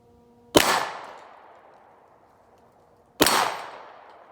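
Two loud, sharp shots from a Rock Island Armory TAC Ultra threaded 10mm pistol at a range, spaced about two and a half seconds apart, each trailing off in a short echo.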